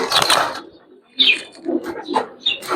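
Giribaz pigeons in a loft give short close coos and soft calls in several separate bursts, with quiet gaps between them and faint rustling.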